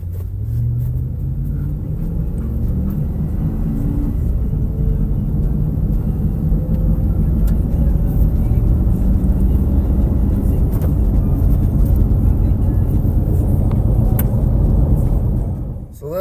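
A high-mileage 2003 GMC Yukon's engine rumbles low and steady while driving on a test drive, with a rising tone as it accelerates, continuous and close, with a voice talking over it.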